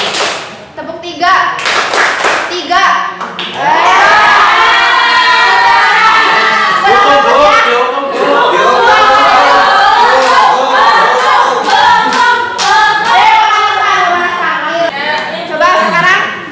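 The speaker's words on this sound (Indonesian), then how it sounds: "Tiga berarti kau tepuk tiga." Children in a classroom clap their hands in short bursts on a teacher's count, the claps mixed in with lively kids' chatter and voices throughout.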